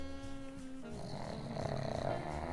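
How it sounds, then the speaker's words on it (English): A small runt dog snores softly and close by in a few slow, rasping breaths with a nasal, purring rattle. "he snores like crazy"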